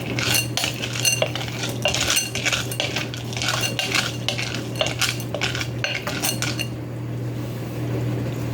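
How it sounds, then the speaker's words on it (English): A bamboo spoon stirs rapidly inside a bowl over heat, making dense, rhythmic clacks and scrapes up close before the strokes stop near the end, leaving a low steady hum. "I'm going to start by stirring and get my handle"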